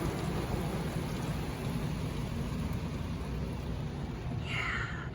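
Dense, steady spray of water drums against a car at a car wash, a constant loud hiss and rumble that barely changes from start to finish.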